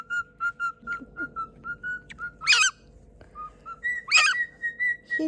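Pet galah cockatoos give a run of short, evenly spaced whistling notes broken by two loud, harsh screeches, close by and with no voices.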